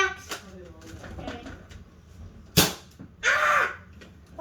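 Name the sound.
nerf gun being shot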